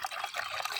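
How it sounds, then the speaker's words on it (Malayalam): Vinegar pours into a container as a brief, soft trickle of liquid, mixed as a weed-drying solution, heard faintly and alone for under a second. "ഈ സുർക്ക ഒന്നായിട്ട് ഇതിലേക്ക് പാരാൻ പോവാണ്"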